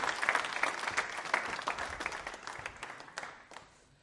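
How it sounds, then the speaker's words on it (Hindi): An audience applauds in honour of a retired justice at a quiz show on the Indian legal system, steady broadband clapping that swells early and slowly fades over about four seconds, with no talking. "तालियां बजाइए उनके सम्मान में"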